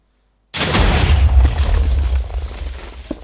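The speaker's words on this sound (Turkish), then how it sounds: "Ne patlatıyorsun lan? Ha. TNT kanon." A TNT cannon explodes in Minecraft: one sudden loud boom after a half-second of silence, followed by a long rumbling blast that slowly fades.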